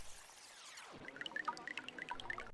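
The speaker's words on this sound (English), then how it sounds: "Water drips in as people are born." Water dripping into a glass, a run of small bright plinks and droplets falling one after another at a quick irregular pace, close and clear, following a short pouring rush at the start.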